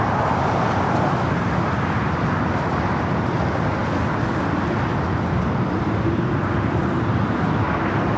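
Aircraft taxiing across runway 25 Right at Los Angeles airport toward the west gates gives off a continuous broadband engine rumble and roar, steady and fairly loud throughout with no voices.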